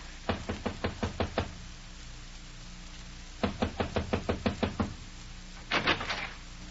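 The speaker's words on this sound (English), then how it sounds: "if you won't knock on that door, I will" Knocking on a door in a radio drama: two quick bursts of about six sharp raps each, clear and close, followed by a short louder thump near the end.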